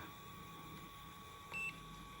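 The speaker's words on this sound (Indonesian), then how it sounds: "jika memakai tester digital, set ke mode buzzer" Digital multimeter set to continuity buzzer mode while checking a power supply gives one short, faint high beep over a steady low background hum.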